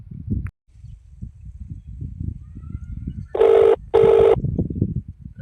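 A telephone rings twice in clear, loud bursts over soft background rumble and faint voices.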